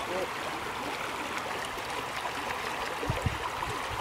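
A small river flows steadily over rocks on a bush walk, making a constant broadband rush and gurgle with a couple of brief low splashes or thuds near the end.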